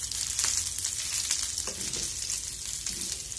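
Pork pieces with potatoes brown in a pan with very little oil and their own rendered fat, giving a steady, close crackling sizzle with faint scrapes of stirring.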